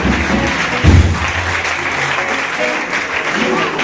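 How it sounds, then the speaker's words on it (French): A church congregation at a youth presentation in a Reformed Christian church gives a round of applause, a steady broad wash of clapping with one louder burst early on and faint voices mixed in. "un gros applaudissement pour lui-même"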